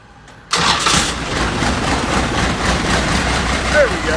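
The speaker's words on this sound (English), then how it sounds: "you operate the good old starter here, but you got to operate the throttle at the same time" A Mopar car engine cranks on its starter and catches after a half-second of quiet, then runs at a rough, steady idle close to the microphone.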